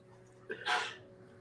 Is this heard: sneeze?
yes